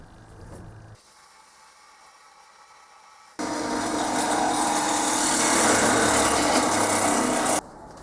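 Tap being turned into a metal shaper column, rasping and grinding close by, with a quiet stretch and then a louder, steady cutting passage lasting several seconds.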